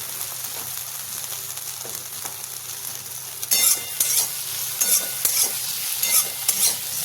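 Potatoes and chopped tomatoes for sabudana khichdi fry and get stirred in a pan, a steady close sizzle with scraping spoon strokes that grow louder and more frequent partway through.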